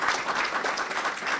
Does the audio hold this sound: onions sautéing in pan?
no